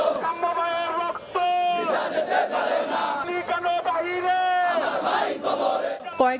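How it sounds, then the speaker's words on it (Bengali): Crowd of protesting students chanting slogans in unison on the Dhaka University campus, loud and close, with a lead voice calling and many voices answering in rhythmic bursts. "কয়েকদিন ধরে স্লোগানে স্লোগানে উত্তাল ঢাকা বিশ্ববিদ্যালয় ক্যাম্পাস"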